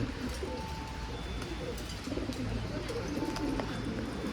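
Keşpir pigeons cooing in a loft, a steady low repeated coo with faint chirps over continuous ambient noise, no talking.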